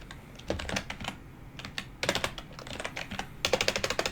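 Code is typed on a computer keyboard in quick close-up bursts of clicky keystrokes with short pauses between, growing into a fast run near the end.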